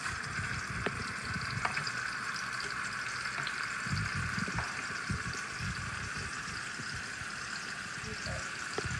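Sausage fat sizzles and crackles steadily in a frying pan, a close, continuous hiss broken by small pops and the occasional scrape of stirring.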